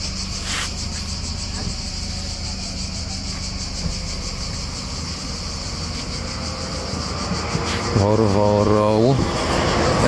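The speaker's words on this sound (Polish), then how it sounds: "I pięknie grające świerszcze." Crickets chirp in a dense, steady chorus outdoors on the Chalkidiki peninsula in Greece, with a low droning tone rising near the end.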